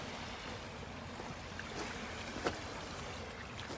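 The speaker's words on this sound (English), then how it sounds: "How many times did Andrew hear these waves at the Sea of Galilee and pull in his nets and wash them?" Gentle waves lapping on the shore of the Sea of Galilee, a steady soft wash of water with a faint splash midway, quiet and continuous with no talking.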